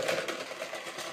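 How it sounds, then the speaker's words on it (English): Stand mixer grinding mashed potatoes in an Indian cooking kitchen, a steady whirring motor hum running throughout, fairly loud and close. "you can take your wonderful mix master and simply grind them down"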